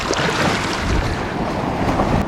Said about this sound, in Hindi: ये फिर आ गई एक वेव और।